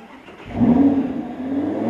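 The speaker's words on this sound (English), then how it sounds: "That's an Italian hot rod, ladies and gentlemen. An Italian hot rod." An Italian hot rod engine revs up once in a short burst, then settles into a steady rumble nearby.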